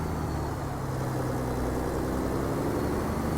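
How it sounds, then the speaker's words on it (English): A Cat C15 550-horsepower diesel in a Jon Ruda 389 truck, as simulated in American Truck Simulator, runs as a steady, even low drone with no change in pitch or level throughout and no talk. "One I'm using is a Cat C15. It's a 550 horsepower engine."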